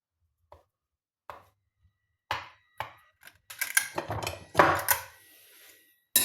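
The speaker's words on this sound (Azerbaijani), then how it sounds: "başlayırıq yumurtalarımızı doğramağa" Boiled eggs being chopped for a carrot salad, knife knocking on a board in sparse single taps that build into a quicker, louder run of cuts, close and with no talk.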